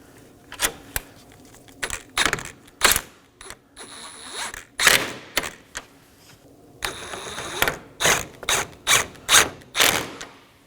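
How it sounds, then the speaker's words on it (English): A ratchet snugs down 10mm bolts on the front upper bumper impact absorber of a 2015-2023 Nissan Maxima. Close, sharp bursts of rapid clicking come in short strokes with brief pauses, and no one speaks. "for our 10mm bolts, just snug these down"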